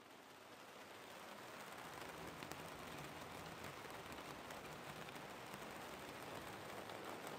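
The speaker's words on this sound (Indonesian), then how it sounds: "Gerimis menemani sepanjang perjalanan Asih dan Teddy menuju kampung halaman." Light drizzle falls in a soft, steady hiss with faint scattered drop ticks, even and unbroken, fairly quiet and alone without any voices.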